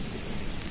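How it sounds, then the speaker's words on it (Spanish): Heavy rain pours in a thunderstorm as a dense, steady roar of broadband noise, loud and continuous through a very short moment. "Mira la tormenta que hay."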